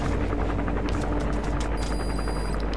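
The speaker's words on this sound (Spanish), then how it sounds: "Es que el helicóptero nos ve" An enemy helicopter in Metal Gear Solid V thrums overhead as a steady, loud rotor roar with rapid blade chop, with no talking heard.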